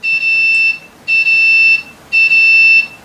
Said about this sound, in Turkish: ekranda da acil durum alarmı gözüküyor ve aralıklı olarak bip sesi çalıyor